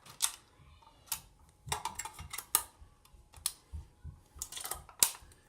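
A razor blade cuts around an aluminum can for a penny alcohol stove, producing faint irregular scratchy clicks and ticks in uneven bursts, close and quiet with no talk.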